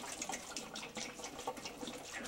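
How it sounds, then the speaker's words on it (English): Hot water being dumped out during a home air-pressure experiment, a faint, continuous splashing pour with soft bubbling pulses and no voices. "So hot water being dumped out."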